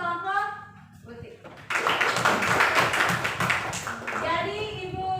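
Students in a classroom give a round of applause for a group: after a teacher's voice, a burst of dense, close hand clapping runs for a few seconds, then talk resumes.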